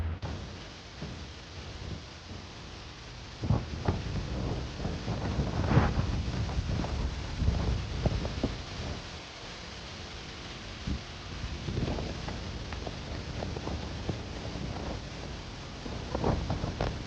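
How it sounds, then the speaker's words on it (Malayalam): Strong wind sweeps across the hilltop at the Chitharal Bhagavati temple and Jain monuments, buffeting the microphone in rumbling gusts that swell and ease throughout, with no one speaking. "കാറ്റ്, ഞാൻ നേരത്തെ പറഞ്ഞില്ലേ, കാറ്റ് ഒരു രക്ഷയില്ല. ഞാൻ അതിന്റെ സൗണ്ട് നിങ്ങൾക്ക് കേൾപ്പിക്കാം."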